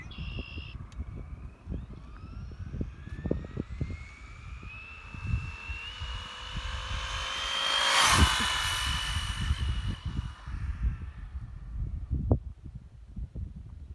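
A Traxxas Slash 2wd RC car accelerates hard, its electric motor whine rising steadily in pitch and peaking loudly as it passes close by. Gravel crunch and bumps sound throughout.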